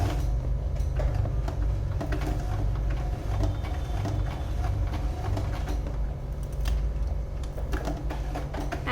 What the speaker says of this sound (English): I would do a very slow stitching here